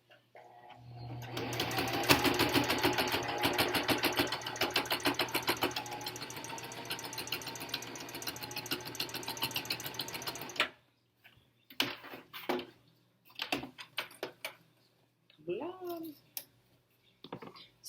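A sewing machine runs steadily for about ten seconds, back stitching along the edge of a fabric cover for an N95 mask, then stops; brief handling clicks and a short bit of speech follow.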